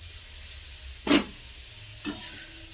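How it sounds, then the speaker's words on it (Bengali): Shredded potatoes frying in oil for lachha namkeen give a low, steady sizzle, broken by a few sharper bursts of crackle and stirring noise about a second apart. "তো এই একইভাবে আমি আলুগুলোকে ভেজে নিয়ে ফিরে আসি।"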